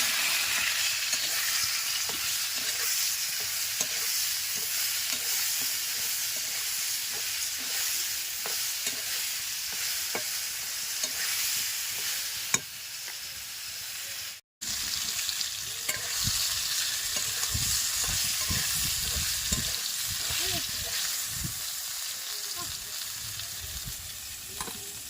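Eggplant seasoned with turmeric and salt fries in hot oil with a continuous loud sizzle, broken by repeated scraping stirs and a brief dropout midway.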